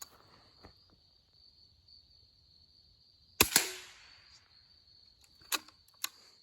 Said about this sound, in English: I'm gonna shoot it at this metal.